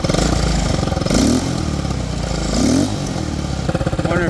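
A Motobravo Roma 150cc scooter engine idles unevenly right up close, a steady chugging putter that rises slightly in two brief swells before settling back, with no talking over it.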